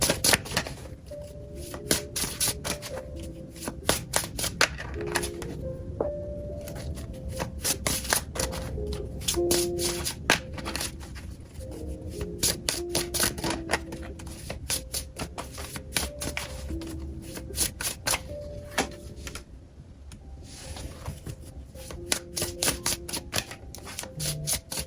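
Cards from an Ethereal Visions tarot deck being handled and drawn, a steady stream of crisp, close papery flicks and clicks carrying on for a long stretch without pause.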